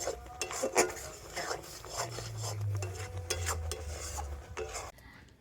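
Raw mango pulp being stirred in a pan as it thickens, giving repeated scraping and rubbing strokes of a spoon against metal, close and fairly quiet, with a low steady rumble underneath.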